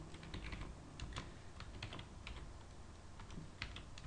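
Rapid, continuous clicking of keys on a new computer keyboard, with irregular bursts of keystrokes over low background hum and no talking.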